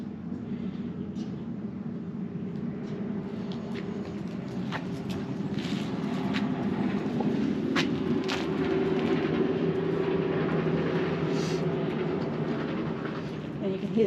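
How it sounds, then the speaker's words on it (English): A continuous low rumble of trucks rolls past in the background of a campsite in New South Wales, Australia, swelling slightly midway, with faint clicks and knocks nearby. "And you can hear the trucks going past in the background."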